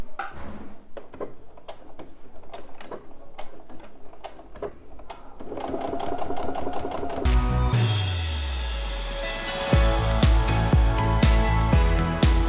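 A sewing machine stitches along piping on a small jewellery pouch, starting with slow spaced needle ticks, then speeding up into a loud continuous rattling whir with a rising motor tone, close up and alone.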